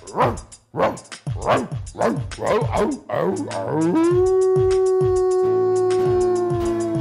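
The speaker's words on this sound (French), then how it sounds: "Et toujours ce chien en face qui fait." A dog across the street barks in quick repeated yips that stretch into a long, loud, sustained howl, close and prominent with no talk over it.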